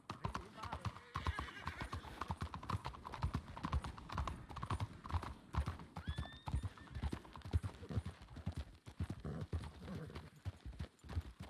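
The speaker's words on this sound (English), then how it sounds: "There's a few horses coming in." Several horses approach in a video game, hooves clip-clopping in a steady, rapid rhythm, with a brief whinny partway through and someone talking over the hoofbeats.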